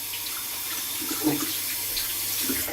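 Water runs steadily from a tap into a sink during a head shave, a continuous broadband splashing hiss that stays close and fairly loud throughout, with no talking.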